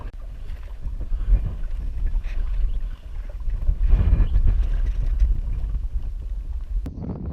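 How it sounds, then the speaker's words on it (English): A fishing boat motor turns over slowly on a lake, a low rumbling drone with wind buffeting the microphone, steady and near throughout. "we slowed the motor right down so as to cause less disturbance"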